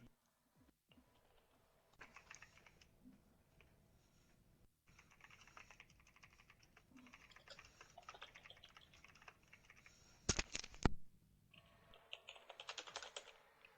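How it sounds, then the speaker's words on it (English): Computer keyboards clattering as several people type in bursts, quiet and close, with brief louder clicks near the end and no talk. "Keyboards are going away."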